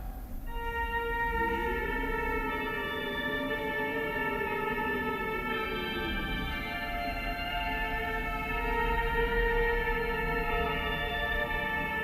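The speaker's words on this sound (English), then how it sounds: "Follow the notes and play the piano." A sustained piano-like melody in the video game Fatal Frame: Mask of the Lunar Eclipse, with long ringing tonal notes layered over a steady low background hum, played alone without speech.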